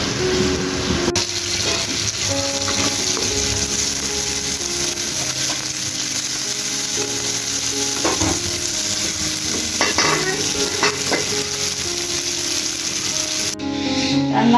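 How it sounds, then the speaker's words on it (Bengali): Tomatoes fry in a pan for a Bangladeshi tomato chutney, giving a dense, unbroken sizzle close by, with scraping stirs and soft knocks scattered throughout. "যার জন্য এই তো টমেটোগুলো ভেজে নিতেছি।"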